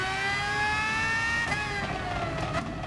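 A racing car engine in Gran Turismo Sport on the Sardegna Road circuit holds a high, steady whine, climbing slightly in pitch as it accelerates hard out of a corner, loud and close with no talk.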